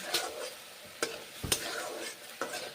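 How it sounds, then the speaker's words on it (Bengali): Spices fry in a pan with papaya and are stirred in it, giving a close, soft, steady sizzle broken by several sharper scrapes of the spoon. "এইভাবে মশলা বেশ ভালো করে কষে নিচ্ছি"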